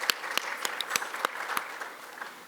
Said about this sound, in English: let's please give them a serious round of applause